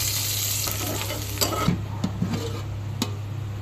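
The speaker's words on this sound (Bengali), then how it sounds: "পেঁয়াজ বেরেস্তা করে নেব।" Onions fry in oil in a pan for birista, a soft continuous sizzle with a low steady hum beneath and a few sharp utensil clinks and scrapes, close up and without speech.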